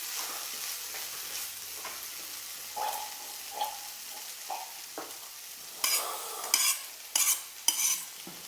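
Rice being stirred into beef biryani masala in a pan, soft scraping and mixing strokes over a quiet low sizzle, turning louder and more frequent toward the end.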